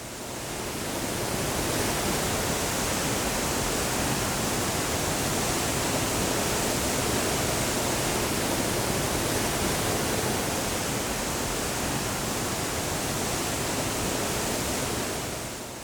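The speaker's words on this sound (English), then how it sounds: "Waterfalls are among the hidden treasures of Nyungwe" A waterfall in Nyungwe forest, Rwanda, gives off a steady, dense roar of falling water that stays loud and unbroken from start to finish, with no voices.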